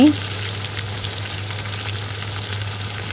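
Chicken legs frying gently in oil over medium-low heat, a steady even sizzle that stays constant throughout with a low background hum.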